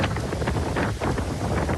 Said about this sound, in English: The winds out here are so intense.